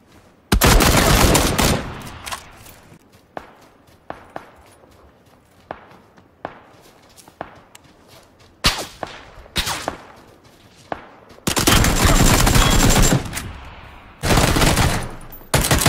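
Uzi fire in the PUBG video game crackles in loud bursts and scattered single shots, with long sustained volleys near the start and middle and sharp isolated cracks between, alongside faint footsteps.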